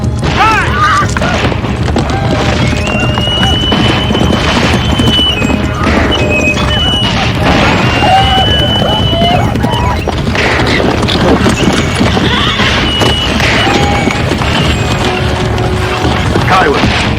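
Loud, busy scene of horses galloping with pounding hoofbeats and occasional neighs and whinnies, mixed with crashes and shouted voices.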